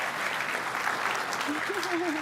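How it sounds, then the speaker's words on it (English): Steady applause from a crowd fills the clip, with some voices mixed in underneath. "Let's give another round of applause"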